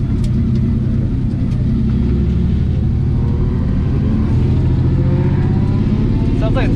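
A turbocharged BMW E36 with an M50 engine that is missing a cylinder runs close by, with a loud, rough, rumbling idle and a few brief rises in revs over several seconds.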